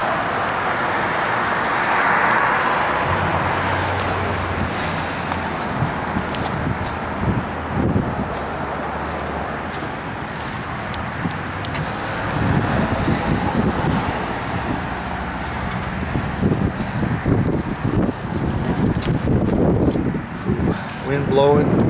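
Gusty outdoor wind buffets the microphone beside a 1967 Chevrolet Camaro RS/SS, a steady roaring rush with low rumbles and passing traffic noise, while someone talks over it throughout.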